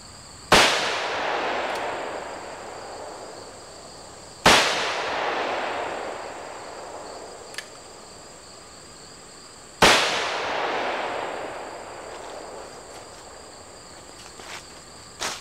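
Three loud, sharp gunshots from a Ruger Super Blackhawk .44 Magnum revolver go off outdoors several seconds apart, each with a long echoing decay and insects chirping faintly between the shots.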